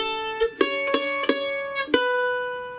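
A mandolin picks a short bluegrass phrase from Nine Pound Hammer: six bright, ringing notes in a steady, unhurried rhythm, played close and alone, with the last note left to ring out.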